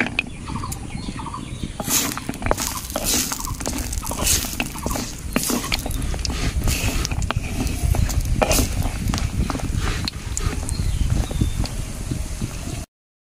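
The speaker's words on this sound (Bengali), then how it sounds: "এই বিউলির বড়িগুলো ভেজে নেব।" Urad dal bori, small lentil dumplings, fry in hot oil with a steady bubbling crackle and scattered sharp pops, close and fairly loud throughout.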